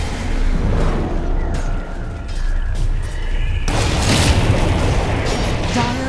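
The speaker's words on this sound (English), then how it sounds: "Dire's middle tower has fallen." Dire's middle tower falls in a Dota 2 match with a heavy, booming crash that swells into a loud, crumbling rumble over ongoing battle noise.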